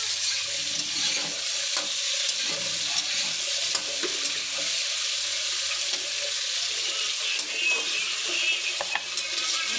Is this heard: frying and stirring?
yes